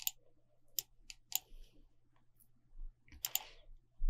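Computer keyboard keys pressed in a quiet room, a few isolated sharp clicks spread out with long gaps and a brief cluster near the end, faint and close.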